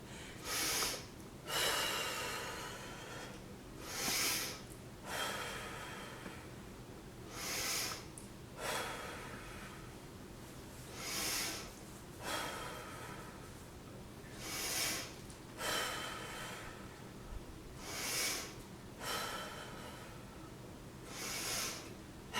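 Heavy breathing after cardio exercise: repeated deep, forceful breaths and snorting exhales come at a steady pace of roughly one every two seconds, fairly close and moderately quiet, with no talking.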